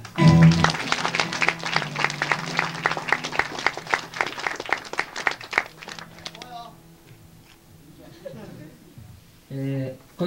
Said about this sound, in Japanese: 温かい拍手で迎えてやってください